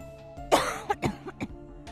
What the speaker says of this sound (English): Mama coughs.